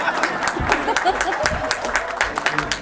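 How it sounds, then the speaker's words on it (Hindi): An audience claps at a live interview with a singer in New Zealand, a short, uneven burst of applause with people talking over it. "एक तो इनके लिए तालियां हो जाए"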